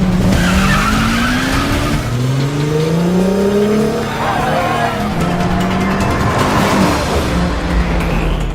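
Acura RSX from a film drag race, its engine revving loudly through rising gear sweeps with skidding tire squeal, continuous and close, with faint voices underneath.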